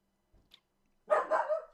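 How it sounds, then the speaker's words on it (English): A dog gives a short burst of barking, a couple of quick yips close by after a near-silent moment, standing alone without talk. "Sorry about the dog, guys."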